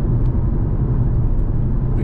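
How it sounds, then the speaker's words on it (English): A big truck passes on a two-lane country road in Germany, heard as a steady, loud low rumble of engine and tyre noise without much rise or fall, with no talk. "Big truck."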